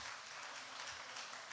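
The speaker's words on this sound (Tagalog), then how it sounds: "isang malakas na palakpak po para sa ating Panginoon" A church congregation gives a round of applause, steady dense clapping heard faintly at a distance and continuing evenly throughout.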